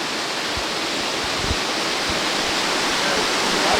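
Joe Howe Falls in Victoria Park, Truro, Nova Scotia pours as a loud, steady broadband rush of falling water, constant and close, with faint low thumps beneath.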